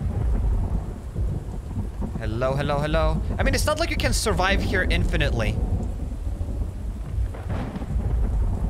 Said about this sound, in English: But the storm is awesome.